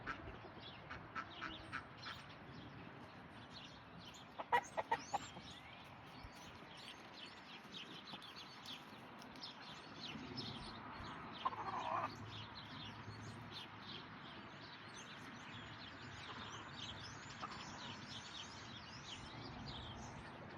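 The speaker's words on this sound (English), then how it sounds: "the ducks are hunting over there." Ducks quack and chickens cluck in a backyard, faint and somewhat distant, with steady chatter and a few sharper calls over soft ambient noise.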